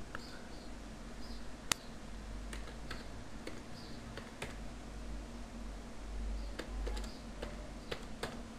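Quiet, close clicks and taps from a computer keyboard, with a few sharper key strikes scattered over a low background hum.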